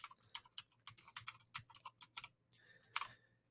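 Quick, crisp keystrokes clatter on a computer keyboard in an uneven rhythm, close and fairly quiet, followed by a brief pause and a couple of final taps.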